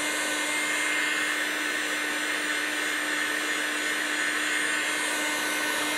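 A heat gun set around 3.5 blows steadily over a wooden gun stock during staining, giving a constant whooshing fan hum with a steady motor whine and no talk.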